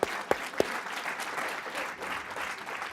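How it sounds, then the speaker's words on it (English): Audience applause at a city mayor's State of the City address in San Mateo, a few sharp claps opening into steady, dense clapping from a sizable crowd, fairly close and continuous throughout. "clap, it's fine with me."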